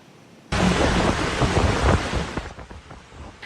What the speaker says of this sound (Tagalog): naranasang malakas na hangin at ulan na nagdulot ng storm surge sa Tondaligan Beach sa Dagupan City kahapon